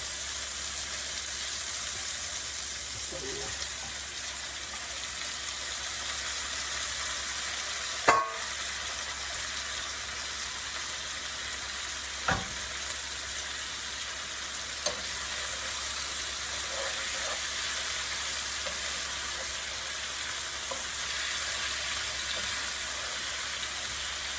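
Potatoes and onions frying for a bitter gourd bhaji, a steady close sizzle that runs the whole way with a few sharp clicks of stirring and no talk.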